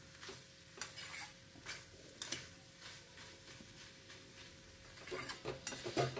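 Young vegetable stalks sautéing in oil over a low flame, a faint steady sizzle broken by several sharp spatula scrapes and clinks against the pan, busier toward the end.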